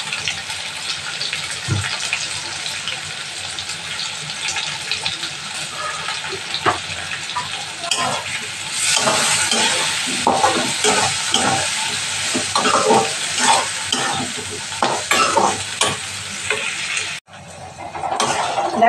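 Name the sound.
potatoes and onions frying and being stirred in a pan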